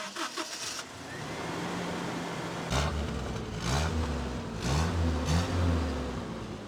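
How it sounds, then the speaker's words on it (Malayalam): A Toyota Qualis with a 2-litre petrol 1RZ-E engine starts and idles nearby, settling into a steady low rumble with a few brief revs, heard alone. "അതിൻ്റെ ആ സൗണ്ടും സ്റ്റാർട്ടപ്പ് നോയ്സും എല്ലാം ഒരു JDM ടൊയോട്ടാസ് ഓഫ് ദാറ്റ് ടൈം ആ സെയിം ഒരു സൗണ്ടാണ്"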